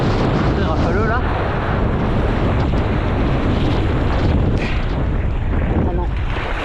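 Strong gusting wind roars continuously across the microphone during a kitesurfing session on the water, loud and buffeting throughout with no clear pauses, suggesting an overpowered kite in rough conditions.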